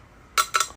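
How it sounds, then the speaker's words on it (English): A metal spoon clanks against a frying pan two or three quick times, bright metallic hits close by. "somebody off camera who's got a fry pan and like a metal spoon and is hitting against that pan"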